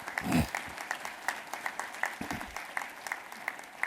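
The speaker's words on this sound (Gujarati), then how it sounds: "તાળી હવે પાડો" An audience applauds at a business networking conclave, a dense continuous patter of many hands clapping at a moderate distance, steady throughout with a brief low thump near the start.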